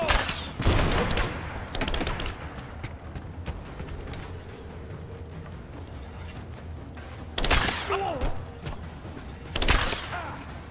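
Gunfire in Rise of the Tomb Raider cracks out in a few sharp bursts at the start, then again near the end, loud and close over a busy rumbling combat backdrop.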